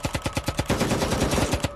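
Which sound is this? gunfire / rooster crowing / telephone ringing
gunfire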